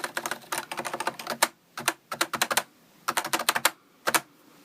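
Close, crisp keystrokes on a stock Topre NovaTouch keyboard with rattling keys, typed in short rhythmic clusters with brief gaps, loud and alone.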